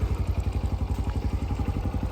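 A motorcycle engine runs nearby with a steady, rapid low thumping pulse, close and continuous at an even idle-like rhythm.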